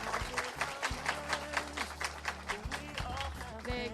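Warm audience applause for a bank chief executive's lecture to university students, steady dense clapping from a seated crowd that continues throughout, with a few louder claps standing out near the microphone.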